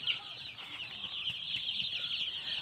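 A poultry farm's flock of broiler chickens keeps up a continuous high-pitched chorus of peeping and clucking, fairly quiet and steady, with no talking.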